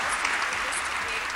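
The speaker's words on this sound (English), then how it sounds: "please give them a huge round of applause" A large conference audience applauds a humanoid robot presentation, a dense, steady wash of clapping that stays loud and even throughout the short moment.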